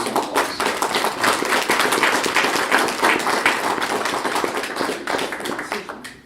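An audience at an activists and media panel applauds the panelists, dense clapping swelling quickly and tapering off near the end, with no talking over it.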